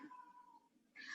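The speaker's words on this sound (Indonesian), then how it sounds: "ini ada kucing lagi" A cat meows faintly: a thin, drawn-out cry followed by a brighter, sharper meow at the end, heard against a quiet background.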